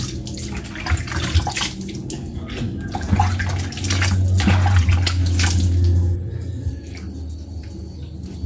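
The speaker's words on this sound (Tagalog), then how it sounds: "first ay maghihilamos muna po ako" Water splashes and runs from a basin as someone washes their face, with fluctuating rushes and splashes that swell louder midway, then taper to softer trickles and drips.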